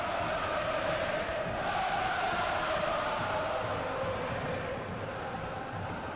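AS Roma supporters roar and chant in the stadium during a match against Borussia Dortmund, a steady distant crowd noise that stays constant throughout.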